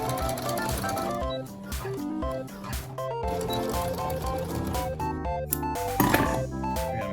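A sewing machine stitches a part for an old accordion being restored, with a rapid, steady mechanical rattle running close and loud for the whole stretch and a brief knock near the end.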